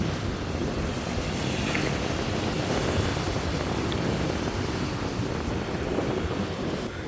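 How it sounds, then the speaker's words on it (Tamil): Rough, surging sea pounding the shore at a fishing beach, a continuous loud roar of surf mixed with wind buffeting the microphone and no voices. "இங்கே பாருங்கள் அவ்வளோ அடிக்குது கடல்"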